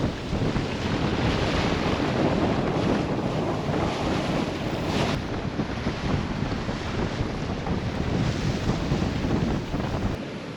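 Strong wind roars steadily across the microphone while a sailboat runs at sea, with waves and water rushing beneath the gusts, loud and unbroken, with no talking.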